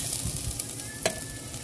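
Onions dropped into garlic frying in a pan for ground pork with ketchup, a brief burst of close sizzling with a light clink of a utensil, no talking.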